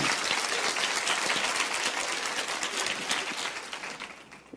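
Steady, dense applause from a church congregation fills the space without pause, loud and sustained, with no voices over it.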